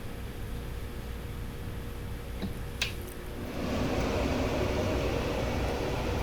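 A steady broadband whoosh of a Broan 508 kitchen exhaust fan, with a click partway through and then a louder, fuller airflow roar continuing.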